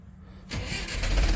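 A badly running tractor engine cranks and catches about halfway through, then runs loud and rough close by, its rumble building toward the end.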